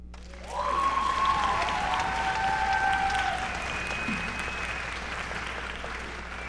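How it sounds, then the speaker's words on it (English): Audience applause fills a school orchestra's May concert hall at Frederick High School, a broad steady clapping that swells in quickly and holds with little letup, faintly tapering toward the end, with no voices over it. "Please give another round of applause for our student guest, Jada Di Giulio."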